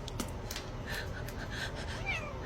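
A house cat meows a few times, faint and somewhat distant, over a steady background hum.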